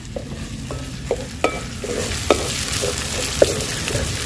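Mutton dropped into fried masala in a pan sizzles and hisses up close, with repeated sharp clacks of a stirring spoon against the pan.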